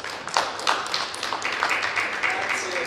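Audience applause at an Italian conference on Francesco Paolo Tosti and the romance song, a steady burst of many hands clapping in a hall, fairly close and even throughout the short stretch.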